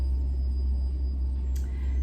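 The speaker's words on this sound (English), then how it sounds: "We have a street cleaner going by" A street cleaner drives past outside, heard indoors as a steady, low, muffled rumble that stays at a constant level throughout.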